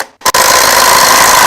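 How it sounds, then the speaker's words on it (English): A loud, continuous burst of an impact wrench on an LS engine alternator and power steering bracket, starting with a brief blip and then running steadily for just over a second. "Impact though, because it's gonna be hard to do this with a wrench."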